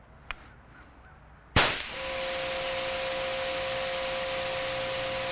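A SunJoe electric pressure washer fitted with a 3.0 nozzle bursts on after a quiet pause, settling into a loud, steady hiss of spray over a constant pump whine that runs to the end.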